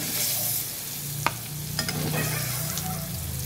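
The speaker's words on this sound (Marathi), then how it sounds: "आपलं पनीर आता हे फ्राय झालेलं आहे." Paneer frying in a pan for matar paneer, a continuous close sizzle and hiss with a couple of light scrapes or taps of a utensil, no voices present.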